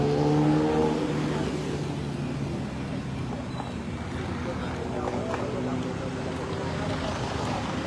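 Heavy road traffic streams along J.W. Diokno street, a continuous roar of engines and passing vehicles with one engine revving up close at the start, while people talk over it.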